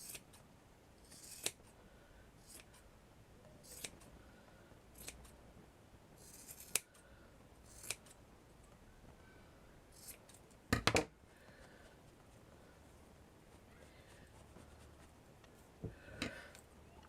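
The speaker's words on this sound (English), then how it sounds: "I'm just trimming it up, that's all, making it neater." Scissors snip doll hair in a quiet room, a series of sharp, isolated cuts spaced a few seconds apart, with a quick cluster of snips near the middle and a couple more toward the end.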